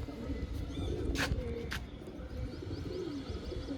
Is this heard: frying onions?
no